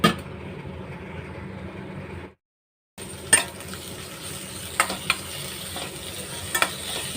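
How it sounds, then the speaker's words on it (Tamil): Onions and tomatoes sauté in a pan for egg gravy, making a soft, steady sizzle that stops briefly for a moment of silence, then resumes with a few sharp scraping or stirring clicks. "நல்லா அந்த வெங்காயம் தக்காளி எல்லாம் நல்லா வதங்கட்டும்."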